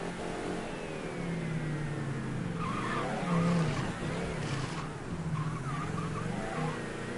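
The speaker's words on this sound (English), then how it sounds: "Oh god, there's so much traffic." In the video game Mafia 3, car engines rev and accelerate through busy traffic while tires squeal and skid, a continuous loud mix of engine drone with wavering screeches in the middle.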